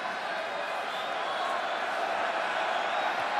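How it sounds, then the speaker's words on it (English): Rugby stadium crowd at a Heineken Cup match between Toulon and Leinster, a dense, sustained roar of cheering that stays loud and even throughout, with no distinct voices. "they need to quieten this crowd"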